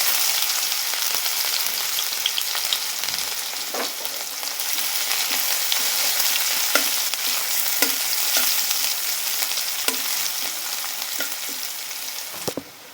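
Onions frying with cumin seeds in a pan, a loud continuous crackling sizzle broken by scattered scrapes and taps of a stirring spoon, with no voices.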